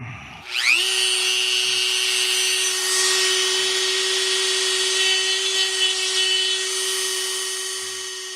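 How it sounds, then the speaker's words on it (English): A power grinder spins up on a part of a tank being finished, then holds a loud, steady high whine for several seconds before easing slightly toward the end. "We gotta grind that one."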